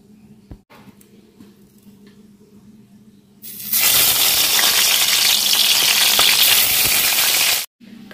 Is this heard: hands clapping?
no